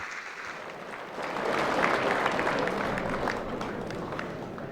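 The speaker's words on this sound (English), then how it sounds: "Please, another big round of applause," An audience at an international business awards event in Fiji breaks into sustained applause, a dense wash of many hands clapping that swells and then holds steady.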